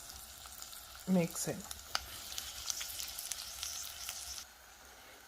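Onion sizzling in a pan with anchovy, a quiet steady frying hiss with a few stirring clatters and pops, while a voice speaks briefly near the start.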